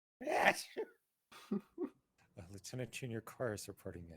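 A single sharp sneeze bursts out at the start, followed after a short pause by someone speaking.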